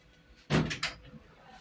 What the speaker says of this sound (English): First floor. Doors opening.